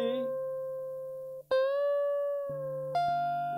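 Electric guitar notes from a solo, sustained tones that slide upward in pitch as a string is bent, with fresh plucked attacks, played close and clear without talk.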